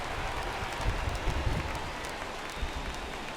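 A baseball stadium crowd in MLB The Show 17 on PS4, Angels at Marlins, makes a steady, dense roar of cheering and noise that holds at an even level throughout, with no clear talking above it.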